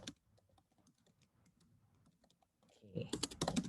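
Computer keyboard keys are tapped as code is entered, quiet scattered clicks at first that turn into a louder, faster burst of close typing near the end.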